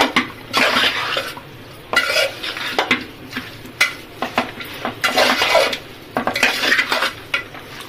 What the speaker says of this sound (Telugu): మంచిగా కలిపేసుకోవాలి ఇట్లా అంతా కలిసేటట్టు